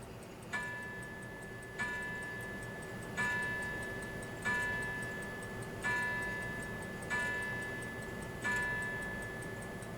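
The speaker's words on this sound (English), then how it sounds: "Have a listen to the chime." A repaired Sessions mantel clock plays through a phone speaker, its steady ticking running throughout and a bright chime stroke ringing out roughly every one and a half seconds, each note decaying slowly over the tick.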